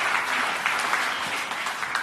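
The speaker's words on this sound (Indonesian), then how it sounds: "Tepuk tangan yang meriah bagi Tuhan ini." A church congregation applauds warmly during a sermon: steady, dense clapping from a crowd at moderate volume, with sharper individual claps standing out, lasting throughout with no talk over it.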